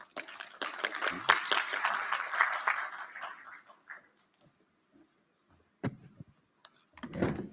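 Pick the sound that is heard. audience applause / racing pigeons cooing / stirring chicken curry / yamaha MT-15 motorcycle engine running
audience applause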